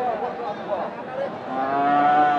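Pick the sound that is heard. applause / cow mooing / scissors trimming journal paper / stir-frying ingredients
cow mooing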